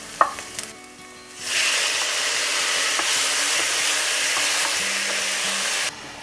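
Tomatoes dropped into a pan of frying onions for a cauliflower and green peas curry burst into a loud, steady sizzle after a brief quiet clatter, hissing continuously up close until it cuts off near the end.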